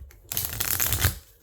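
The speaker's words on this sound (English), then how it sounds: "I'm hearing one more shuffle." A deck of tarot cards is shuffled close by, a brief burst of riffling and rustling lasting about a second, with no talking.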